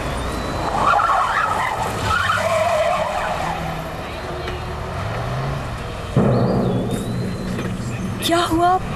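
A car skids to a stop with a rough tire scrape and engine rumble, set in a domestic TV drama, while people talk over and around it.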